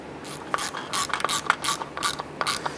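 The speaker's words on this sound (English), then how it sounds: "and then we'll finish tightening them with the ratchet" A hand ratchet tightens bolts on the conductor plate of a 2005-2010 Chrysler 300, giving quick bursts of close, crisp clicking in short repeated strokes, with no talking.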